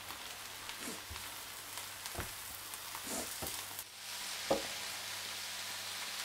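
Vegetables for pad thai stir-fry in a pan with a soft, low sizzle, broken by several sharp scrapes and taps of a utensil mixing them, with no talking.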